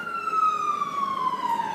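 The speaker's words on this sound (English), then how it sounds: "sorry about the sirens" A loud, close siren wailing in a single long, slowly descending tone with no other sounds around it.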